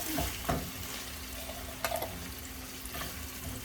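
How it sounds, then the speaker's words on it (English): A wooden spatula scrapes and stirs taco meat mixed with black-eyed peas in a brand new skillet, a steady sizzle broken by a few sharp scraping strokes. "Go back to my wooden spatula. Just make sure I don't scratch the brand new skillet."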